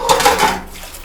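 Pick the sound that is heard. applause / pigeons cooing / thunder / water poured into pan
water poured into pan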